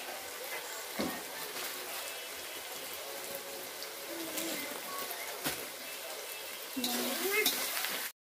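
Onions frying in oil in a pan make a steady, fairly loud sizzling hiss with occasional clatters, a voice talking over it, swelling near the end before cutting off abruptly.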